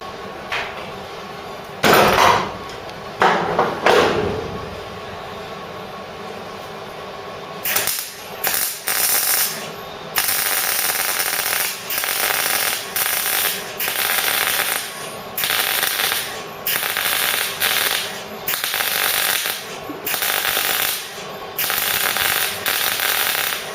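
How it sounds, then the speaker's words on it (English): Welding on a Ford Cortina Mk3 during a classic car restoration: bursts of harsh crackling buzz start and stop in a steady stop-start rhythm, close and loud, with no talk. "let's get some welds in"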